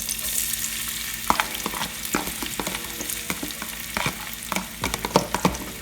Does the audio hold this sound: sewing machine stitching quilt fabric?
no